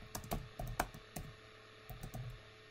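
Typing on a computer keyboard while entering Excel VBA code, heard as quick, quiet bursts of key clicks with short pauses between them, close and soft.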